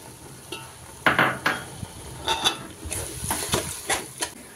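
Masala with half a kilo of yogurt being sautéed in oil for masoor pulao, with a spoon scraping and clinking against the pot in irregular bursts over a soft, steady sizzle, close and moderately loud.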